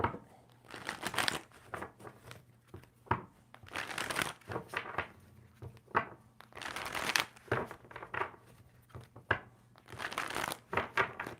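Repeated bursts of tarot cards being shuffled, riffling and flapping in quick clusters with short pauses between, close and clear.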